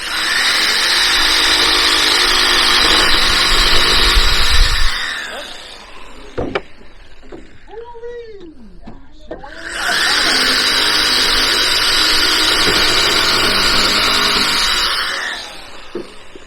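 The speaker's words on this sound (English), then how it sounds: "I got a cordless jigsaw in there." A cordless jigsaw cuts in two loud, sustained buzzing runs of about five seconds each, heard up close, with a quieter gap of clicks and brief squeaky sounds between them.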